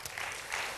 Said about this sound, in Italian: Meritato applauso, direi, per l'impegno.